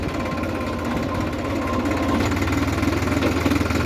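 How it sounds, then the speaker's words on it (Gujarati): A GPS-equipped tractor's engine hums steadily while the tractor turns in a Gujarat farm field spreading manure, a continuous mid-pitched drone with a faint rhythmic knock that swells slightly louder near the end, with no voices. "જો અત્યારે મેં ટ્રેક્ટર વળાવી લીધું બરોબર"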